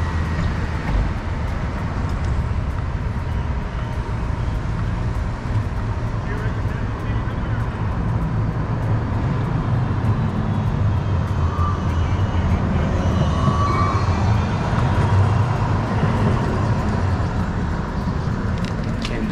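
An Amsterdam tram rolls past amid road traffic, a sustained rumble and hiss with some faint high squeals, heard under steady traffic noise while a person talks.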